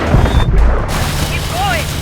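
Missile blasts in Call of Duty: Advanced Warfare, a couple of heavy booming impacts up front followed by a rumbling tail and a short rising-falling whine, loud and close.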